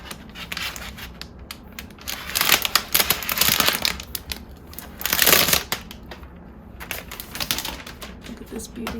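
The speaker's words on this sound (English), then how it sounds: "I'm gonna pull this tab." A tab is pulled open on the box of a gold 2022 M1 MacBook Air. Close tearing and crinkling cardboard and plastic rasps come in bursts, mixed with soft handling noises.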